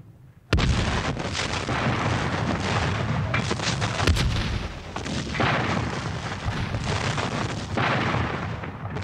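Cannon artillery fire at Fort Sumter rolls in as a sudden, sustained roar of booming blasts, loud and continuous with dense overlapping explosions and a few sharper cracks, without voices.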